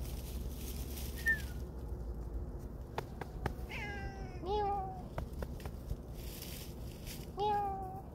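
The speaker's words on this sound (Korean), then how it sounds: "고양이가 왔어요." A stray cat meows several times outdoors, a few drawn-out calls spaced over several seconds, fairly close and clear over steady low background noise and faint distant sounds.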